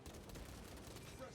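A small gun fires in a Warhammer 40K video game, a quiet continuous burst of rapid shots with a voice talking faintly underneath.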